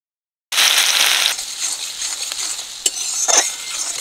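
Two medium onions, chopped fine, frying in generous hot oil for a Bengali fish dish, a loud steady sizzle that starts abruptly and continues close by, with a couple of sharp stirring scrapes toward the end.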